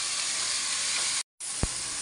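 Onions fry with salt in a pan, giving a steady close sizzle and hiss that cuts out briefly, then returns with a single short thump, with no talking.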